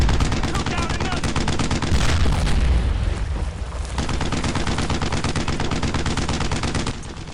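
Heavy gunfire in the World War II shooter Brothers in Arms: Earned in Blood is aimed at a German tank. Loud, dense machine-gun bursts and rifle shots rattle almost without pause, with a deep boom near the middle.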